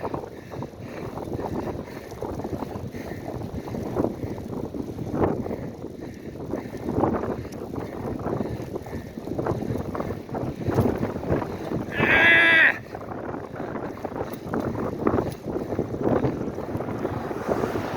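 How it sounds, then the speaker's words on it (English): Wind blows across the microphone during an outdoor run, producing a continuous gusty rumble and buffeting that rises in bursts, with a brief bright tone near the end. "That was the fucking wind."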